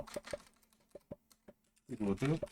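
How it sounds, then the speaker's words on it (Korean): Scattered keystrokes click at an uneven pace on a remotely controlled computer keyboard, followed by a brief burst of Korean speech near the end. "C 언어로 이렇게 한번 타이핑을 한번 해보겠습니다"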